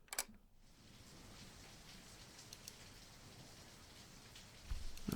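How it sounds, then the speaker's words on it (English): Steady rain falling in a video game, a faint even hiss of patter across the whole stretch with a few soft ticks and a brief louder thump at the end. "And rain."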